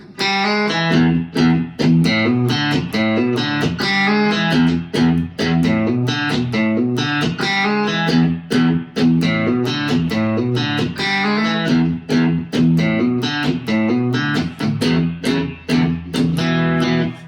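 Electric guitar playing a riff at full tempo, a steady run of sharp, driven, slightly distorted strums and chugs that keeps up a loud, continuous rhythm with no voices.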